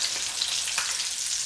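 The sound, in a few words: garlic chicken wings deep frying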